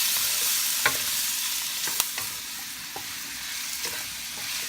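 Pansit bihon sizzles as it is sautéed with garlic and onions, with a steady frying hiss broken by scattered scrapes and taps of the stirring utensil against the pan.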